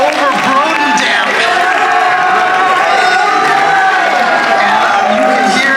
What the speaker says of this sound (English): And you can hear, obviously, his fan base over here definitely cheering him on.